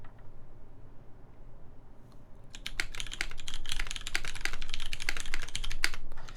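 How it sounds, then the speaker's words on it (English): Rapid keystrokes on a mechanical keyboard clatter in a dense, irregular burst from about the midpoint, close and fairly loud, after a few seconds of near-quiet room hum; no one speaks. "I can just do a quick typing on this"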